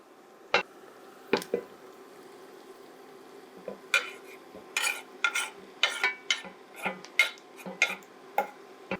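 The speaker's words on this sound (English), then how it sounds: "We're going to go ahead and add our roast beef." Roast beef goes into a pot of softened onions and peppers for Philly cheesesteak soup, giving a run of close wet squishes, clicks and utensil taps that grows busier partway through, with no talk.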